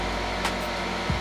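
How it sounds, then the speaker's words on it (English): A hair dryer on its hottest setting blows onto shrink wrap, giving a steady, close, continuous whooshing hum with a brief faint click near the end. "Now I had that hairdryer on the hottest setting"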